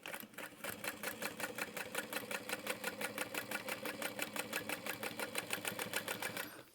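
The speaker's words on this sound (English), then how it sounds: "I'm top stitching 1/8 of an inch from the edge" A sewing machine top stitching a handbag close to the edge runs in one steady burst after a soft start, its needle thumping in a fast, even rhythm, close and clear, before stopping.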